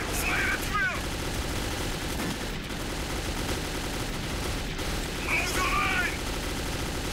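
Gunfire in the post-apocalyptic Metro 2033 video game, a dense continuous fusillade of shots and bursts under a voice that breaks in briefly, loud and sustained throughout.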